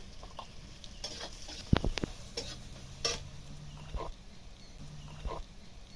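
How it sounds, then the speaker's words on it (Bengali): Onions browned with turmeric and salt are stirred in a frying pan, giving soft scraping and stirring strokes with faint sizzling at moderate distance and no talking. "সর্ষে বাটা একটু নাড়াচাড়া করে নিয়ে দেবো"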